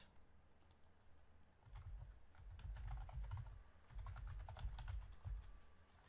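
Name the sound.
typing on a computer keyboard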